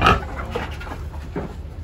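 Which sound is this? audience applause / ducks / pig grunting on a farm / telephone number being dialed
pig grunting on a farm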